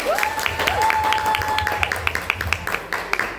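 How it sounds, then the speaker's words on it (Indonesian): Audience applause at a presentation event, steady clapping from a small crowd with rhythmic claps, fairly loud, while a tone sounds at the start. "Beri tepuk tangannya."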